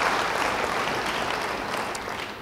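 Steady, dense applause from a church congregation, sustained evenly across the whole stretch with no break and no voices rising above it.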